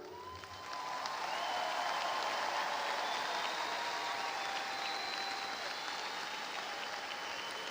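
Commencement crowd at a Texas A&M-Corpus Christi summer graduation applauding the graduates, a dense, steady wash of clapping that swells in after a brief pause and holds loud for several seconds.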